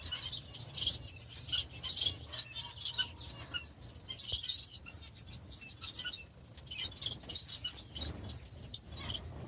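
Bengalese finches in an aviary chirp and tweet in quick, busy bursts, several birds calling close by over a low background rumble, with occasional brief wing flutters.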